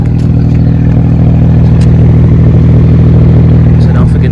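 A BMW E92 335i with an FBO setup drives on the highway, giving a steady, loud exhaust drone with turbo sound throughout, a constant low engine hum close to the cabin.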